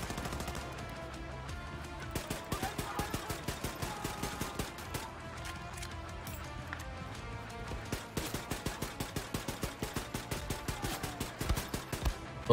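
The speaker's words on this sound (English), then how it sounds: "there's a dude shooting me up there" Enemy gunfire in Wolfenstein The New Colossus, with rapid bursts of automatic shots repeating in rhythmic clusters over a busy game backdrop, fairly loud throughout.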